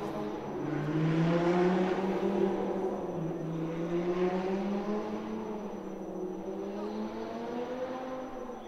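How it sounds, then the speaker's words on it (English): Lamborghini Super Trofeo race cars drive round to the grid at Monza, a steady engine drone from nearby that rises and falls in pitch as the cars pass and shift. "The cars are making their way round onto the grid in anticipation of this first 50-minute race of the season"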